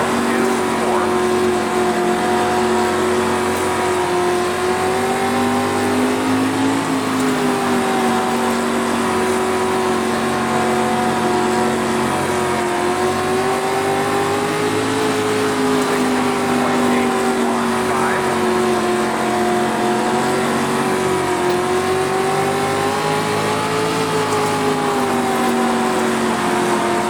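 Dirt street stock race cars in iRacing at Lanier, engines droning continuously with rising and falling pitch as the pack circles, a steady loud roar under occasional commentary.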